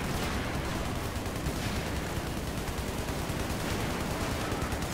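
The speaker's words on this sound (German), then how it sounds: "Ich baller jetzt einfach mal ein paar Schuss durch." Continuous rapid gunfire crackles in Battlefield 4 multiplayer, a dense burst of shots at a steady, moderate volume.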